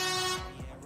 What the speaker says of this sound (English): That's right, air horns.